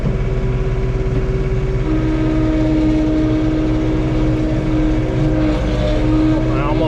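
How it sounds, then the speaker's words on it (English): A John Deere 3 Series compact tractor engine held at 2100 RPM while raking and grading, a loud, steady, close droning hum with an unchanging pitch throughout. "I'm going to kick it up to 2100 RPMs, kind of high, and I'm going to make some long drags"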